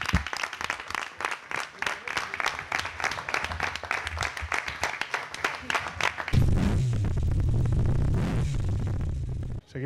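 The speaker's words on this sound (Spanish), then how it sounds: "yo creo que vamos a dar otro aplauso" Audience applause at a motorcycle racing event in Jerez rings out as dense, steady clapping for about six seconds, then gives way to a loud low rumble and a roaring wash of crowd and engine noise.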